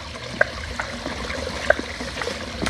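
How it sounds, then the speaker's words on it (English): People wade across a shallow creek at night, with soft sloshing and splashing, a few sharp drips and gurgles, and steady trickling water close by. "creek crossing."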